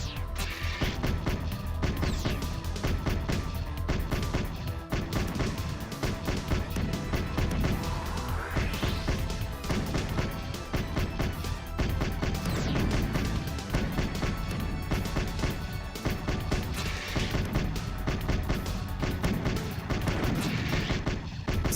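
Missile explosions and gunfire in a video game pound on without pause, with dense rapid bursts and heavy booming impacts filling the whole stretch at high volume.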